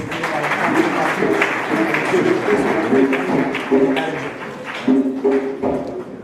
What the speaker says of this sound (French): On applaudit ces gestes